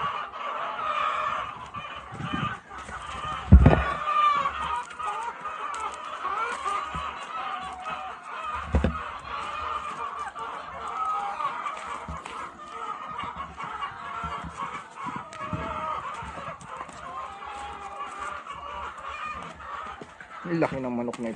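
Chickens cluck steadily around a small free-range egg-layer farm in the Philippines, with a rooster-like call standing out and occasional thumps, while someone talks over the birds.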